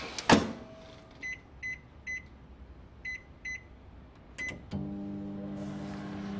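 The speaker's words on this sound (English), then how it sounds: "stroll over to the microwave and melt them" Microwave oven melting chocolate and butter: a door thump, then repeated beeps as the keypad is pressed, a brief loud beep, and the steady hum of the oven starting up.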